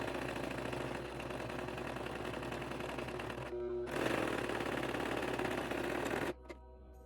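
A sewing machine stitches teddy bear ear pieces with the pretty sides facing, running in a continuous close whirring burst, pausing briefly, then resuming before stopping.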